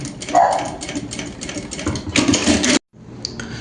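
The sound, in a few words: sewing machine stitching an apron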